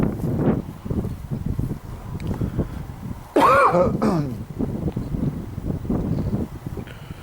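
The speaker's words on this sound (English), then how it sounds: "Excuse me for coughing." A single rough cough or throat clearing stands out midway against a background of wind-like rustle and low murmuring noise inside a chapel.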